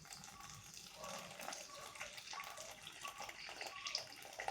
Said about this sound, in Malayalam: പിന്നെ ആവശ്യമുള്ള പാലൊന്ന് തിളപ്പിച്ചതിലേക്ക് ഒഴിക്കുകയാണ്.